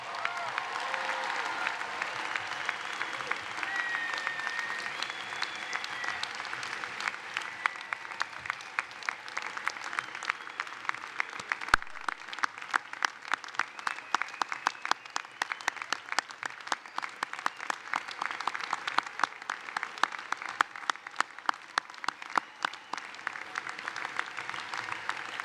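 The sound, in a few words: audience applause for MBA graduates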